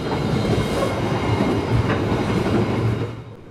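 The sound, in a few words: passenger train 962 running on rails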